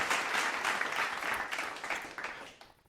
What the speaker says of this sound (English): are live with some clapping.